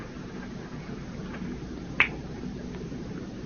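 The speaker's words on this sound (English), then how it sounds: "Snap your fingers, it'll be gone." One crisp finger snap sounds close and alone against a quiet room, a short sharp click with nothing else around it.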